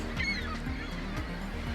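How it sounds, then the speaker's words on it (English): A great black-backed gull gives deep, repeated honking calls on Welsh sea cliffs, several loud, evenly spaced barks over steady wind and surf noise. "It's the greater blackback gull."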